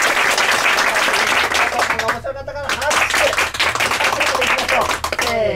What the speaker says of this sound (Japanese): 面白かった方に拍手をお願いします。